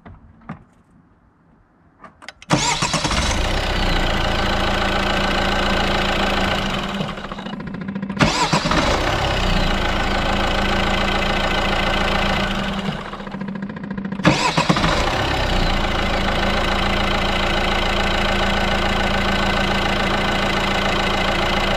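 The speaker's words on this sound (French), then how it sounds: "je vais te mettre un coup de démarrage, comme ça tu vas t'apercevoir que le démarreur fonctionne bien" A Renault Megane 2 Cabriolet with a 1.9 dCi diesel engine cranks and fires up. Three loud starts follow one another, each settling into a steady, close diesel idle, with short gaps where the engine cuts out between attempts.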